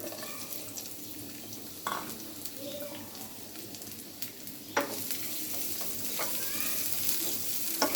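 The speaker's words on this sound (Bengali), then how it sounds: "এবার আমরা ভর্তার জন্য পেঁয়াজ আর 3-4টা কাঁচামরিচ ভেজে নিব।" Onions and green chilies frying in mustard oil in a frying pan make a continuous crackling sizzle, with a few sharp clicks and scrapes of stirring standing out above it.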